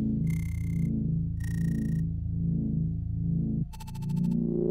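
Procedural chiptune game music from Songbringer with a low droning bass, while a bright synth tone repeats in short bursts on A and A sharp, ending in a faster buzzy pulsing figure.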